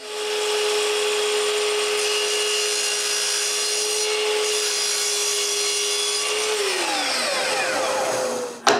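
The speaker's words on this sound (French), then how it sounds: "je dois couper mon collage pour qu'il soit droit de ce côté-là aussi" A power saw cuts through a glued-up wood panel in a workshop, a loud, steady high whine that runs continuously for several seconds, then spins down toward the end.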